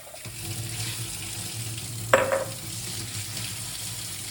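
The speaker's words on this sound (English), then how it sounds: "Just keep rinsing and rinsing and rinsing." Tap water runs steadily as tomato seed pulp is rinsed through a strainer, a soft wash with a brief splash midway and no talking.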